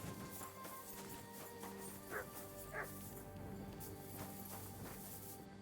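A dog in the medieval video game Kingdom Come: Deliverance II gives a few soft barks and yips over a quiet ambient game background, with sparse footstep-like clatter.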